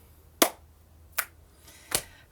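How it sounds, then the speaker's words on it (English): Three sharp, isolated clap-snaps spaced evenly apart, each a crisp close percussive crack over quiet room tone with no talking. "I'm going to add some clap snaps."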